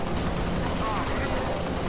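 Heavy gunfire in the game Halo Reach, a rapid dense rattle of automatic shots blended with a voice talking over it, loud and continuous for a brief moment.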